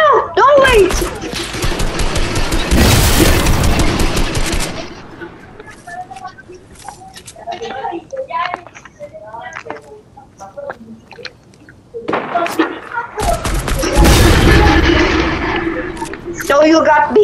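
Sniper gunfire in Fortnite, loud sharp bursts in clustered volleys near the start and again near the end, with a quieter stretch between, heard amid excited players talking.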